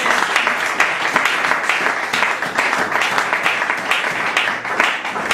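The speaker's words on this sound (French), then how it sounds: "Acclamons pour le Seigneur." A church congregation claps together in a dense, steady round of applause that holds at an even level for several seconds, close and lively with no pauses.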